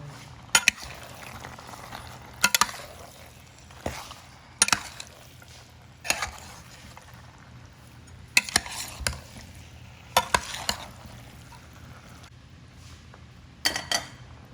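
Coconut pieces and curry leaves frying in a pan for a pork dish, a soft steady sizzle punctuated by periodic sharp scrapes and knocks of a spoon stirring against the pan.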